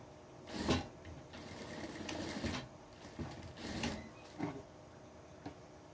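A sewing machine stitching fabric scraps for small pet bows, with a quiet mechanical whir in short uneven runs and pauses. Faint and close, with no talking.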